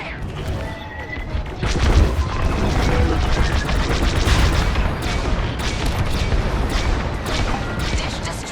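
Starfighter weapons fire and explosions in the Star Wars Squadrons space combat game: dense, loud rapid blasts and booming crashes pile up continuously, with a heavier surge of impacts from about two seconds on.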